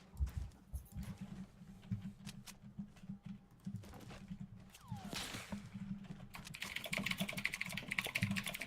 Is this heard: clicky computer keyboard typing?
yes